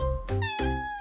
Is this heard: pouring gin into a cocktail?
no